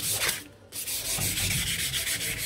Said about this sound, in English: I'll go on to a 600 grit wet or dry